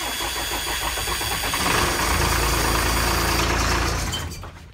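School bus engine cranking and catching, then settling into a loud, rough, knocking idle that runs for a few seconds before tapering off; no talking.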